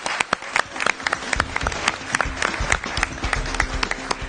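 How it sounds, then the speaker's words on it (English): A college quiz semifinal audience claps for a team, a dense, lively round of applause with sharp individual claps standing out close by. "let's give them a round of applause"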